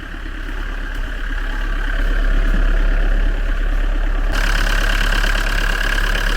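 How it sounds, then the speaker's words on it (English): The old 2.5 litre engine of a Citroen Acapulco camper van idles with a steady, rough, close-up rumble, gaining a brighter tone partway through. "But let me show you the old engine."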